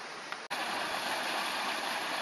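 The Kisalon creek in the Jerusalem hills rushes over a small waterfall, a steady broadband hiss of flowing water, close and continuous, with one brief dropout near the start.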